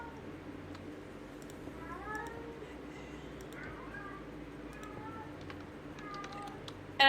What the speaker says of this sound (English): Kitty, I can hear you!